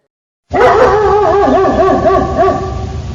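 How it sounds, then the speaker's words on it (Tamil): Street dogs bark and howl together in a cartoon scene, a loud close chorus of wavering, overlapping yelps that starts abruptly and carries on without pause, with no talking. "என்ன திடீர்னு நாயெல்லாம் ஒத்தாப்புல குலைக்க ஆரம்பிச்சிருச்சு."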